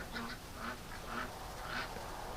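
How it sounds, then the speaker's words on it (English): Ducks quacking softly in a puddle during steady rain on a damp early-spring day, several short calls spread over a constant hiss of rainfall, moderately distant. "The little duck in the puddle of water."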